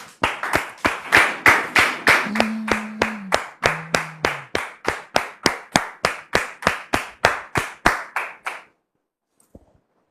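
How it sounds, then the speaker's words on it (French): An audience claps to welcome a guest, a few people in rhythmic unison clapping, close and loud for about eight seconds before stopping abruptly into near silence. "On le reçoit maintenant sous vos applaudissements"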